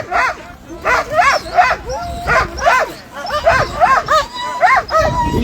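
A pack of sled dogs barks and yips in rapid overlapping bursts at a race start, loud and near, with a few whines between barks.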